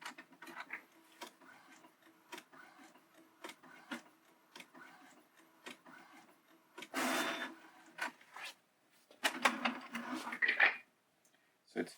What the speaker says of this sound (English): So it's finished printing.